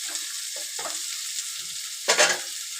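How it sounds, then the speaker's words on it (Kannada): Cauliflower (gobi) frying and being stirred in a pan, a soft steady sizzle broken by scraping stirs and one louder burst of frying near the end. "ಚೆನ್ನಾಗಿ ಹುರಿಬೇಕು. ನೋಡಿ, ಹುರ್ಕೊಂಡಿದ್ದೆ ಚೆನ್ನಾಗಿ"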